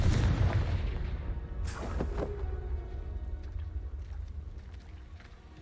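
A Confringo spell blast from Hogwarts Legacy bursts out with a heavy low boom at the start, followed by a sharp crack around two seconds and a long rumbling decay that fades out, with no talking.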